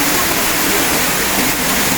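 Rain falls while water pours steadily down a garden water wall, making a loud, dense, continuous rushing hiss with no breaks.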